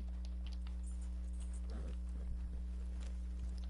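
Horse hooves clip-clop in Red Dead Redemption 2, faint, uneven steps over a loud steady hum of game sound.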